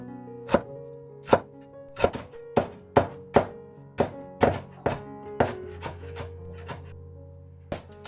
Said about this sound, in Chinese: 接下來把薑切成細絲